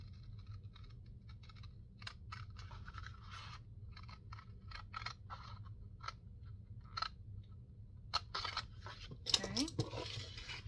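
Paper snipped in half with scissors while crafting an autumn junk journal, a scatter of short crisp cuts spread through the stretch, close and fairly quiet over a low steady background hum.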